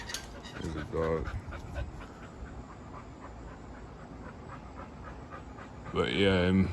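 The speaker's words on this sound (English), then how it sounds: "There's a dog." A dog pants in rapid bursts on a back patio with a running Craftmade ceiling fan. The quick breaths come near and loud in two spells, with a soft steady hum between them.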